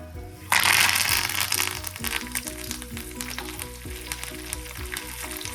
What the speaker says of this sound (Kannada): ಒಣಮೆಣಸಿನಕಾಯಿ, ಕರಿಬೇವು, ಸಾಸಿವೆ, ಕಡಲೆಬೇಳೆ, ಉದ್ದಿನಬೇಳೆ ಒಗ್ಗರಣೆ ಮಾಡಿಕೊಂಡು